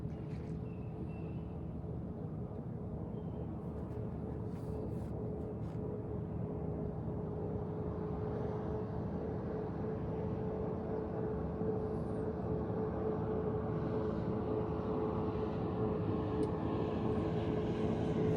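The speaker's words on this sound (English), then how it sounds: "here comes 3 jet skis in one direction, wakeboard boat, a jet ski, and another pontoon boat in the other direction" Several jet skis, a wakeboard boat and a pontoon boat pass on a lake in the early morning, a steady broad engine drone and wash rumbling continuously at moderate distance with no talking.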